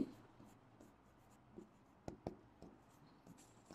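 A pen writes a formula on paper during a numerical analysis math lesson, with scattered scratchy strokes and a few sharper taps, quiet and close, no talk.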